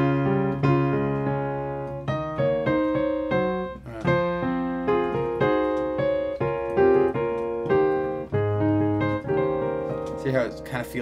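Solo piano plays a phrase from a song, with a steady series of melodic notes and chords over about eleven seconds, clear and close with no talking.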